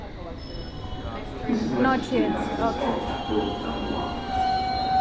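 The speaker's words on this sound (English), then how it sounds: "here comes our train and let's jump in" A train pulls into a London station with a steady rumble of wheels and carriage noise under nearby talk, and a faint squeal rises toward the end.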